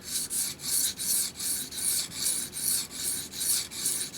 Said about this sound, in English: This stone cuts very fast on top here and leaves a pretty good edge.